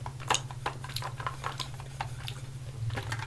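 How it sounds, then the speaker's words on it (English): A small makeup palette handled with light clicks and taps over a steady low hum, soft close-up clatter in a quiet indoor setting. "I have here my little makeup pan"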